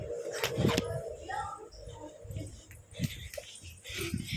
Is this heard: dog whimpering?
yes